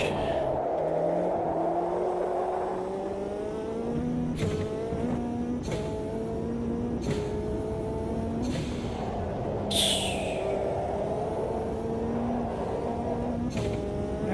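In the Automobilista 2 racing video game, a car engine drones and shifts pitch through gear changes, with sharp bursts of hissing noise that sound like truck air brakes breaking in over the steady motor.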